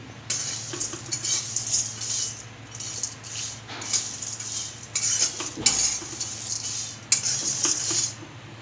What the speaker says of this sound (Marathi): हे सर्व मसाले आता आपण एकत्र भाजून घेऊ